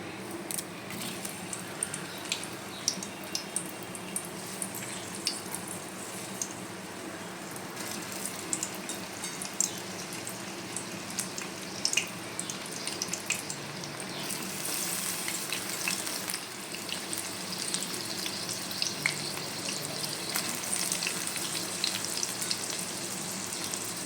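Soaked soybean chunks, squeezed of water, sizzle and crackle in hot oil in a pan. The frying hiss runs steadily throughout, with occasional stirring and spattering that grows busier toward the end.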